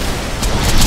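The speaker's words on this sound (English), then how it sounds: "Still requires explosions." A loud, rumbling explosion from the Borderlands video game fills the whole second, a dense, booming blast that swells toward the end.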